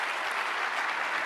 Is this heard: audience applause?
yes